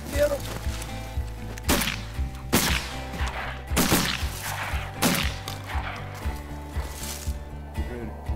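Shotgun blasts boom out repeatedly during a duck hunt, several sharp reports spaced a second or so apart over constant background noise, with hunters talking between the shots.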